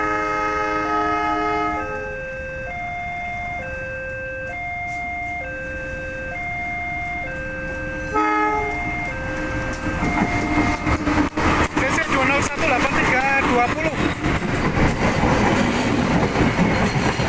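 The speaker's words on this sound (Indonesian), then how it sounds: "Pasar Senen, kereta api Bokowonto." A Bogowonto passenger train at railway level crossing JPL 739 on Jalan HOS Cokroaminoto in Yogyakarta: crossing bells alternate steadily, then the train rolls past loudly and close with rumbling wheels and clacking over the rails.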